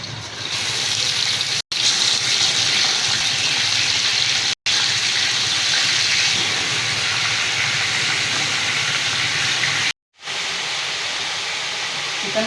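Chicken fries for biryani in a pan, a loud, continuous sizzling hiss with a few abrupt brief cutouts.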